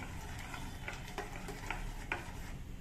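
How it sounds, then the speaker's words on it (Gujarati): Paneer pieces stirred into gravy in a pan, soft irregular scrapes and light clinks of a spoon against metal over a low background hum. "પનીરની ગ્રેવી નાખી છે અને કટકા પણ નાખ્યા છે. 2 મિનિટ હલાવતા રહેશું."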